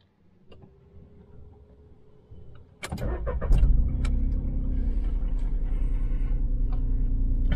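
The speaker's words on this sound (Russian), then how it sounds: "Смешно тарахтит трехцилиндровый мотор" A few clicks and a whirring crank, then a rare Volkswagen's three-cylinder engine catches and settles into a loud, steady idle with a rough, lumpy rumble.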